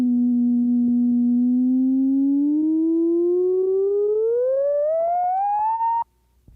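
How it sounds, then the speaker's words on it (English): A pure electronic sine wave from an early studio tone generator holds a steady pitch, then glides smoothly and continuously upward, loud and alone, before cutting off abruptly. "By turning the dial, one can produce an effect akin to a glissando."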